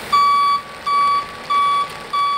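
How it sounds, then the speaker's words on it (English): A snow removal truck's backup alarm sounds in steady, evenly spaced electronic beeps, four loud tones with short gaps and a faint engine rumble beneath. "The vehicle must have an operational backup alarm."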